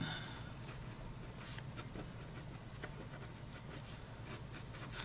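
A vintage Eclipse Hooded Knight fountain pen scratches across rough paper in a quiet stretch of soft, grainy strokes and taps.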